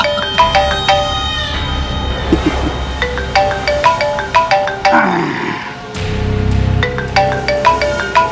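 A mobile ringtone chimes loudly in a looping tune of short melodic notes, briefly interrupted by a rustling, muffled handling noise before the melody returns.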